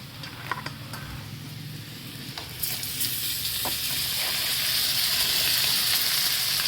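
Small crabs cook in butter in a pan, a steady close sizzle that grows slightly louder and brighter, with occasional light ticks and clinks of a utensil and no talking.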